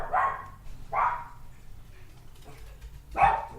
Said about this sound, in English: Right now you hear my dog barking.